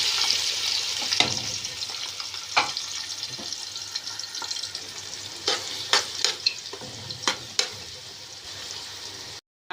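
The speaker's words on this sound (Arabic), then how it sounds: "بعد البصله هنا ما احمرت بحط الثوم وفلفل واقلبهم مع بعض" Onions in oil sizzle steadily in a pan with garlic and peppers added, broken by scraping stirs and clinks of the spoon, close and continuous for nearly ten seconds.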